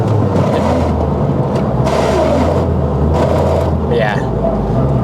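An all-wheel-drive Honda Civic Type R drives along in third gear with a steady low engine drone and road rumble under continuous talk from inside the car.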